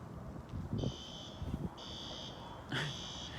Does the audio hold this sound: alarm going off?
yes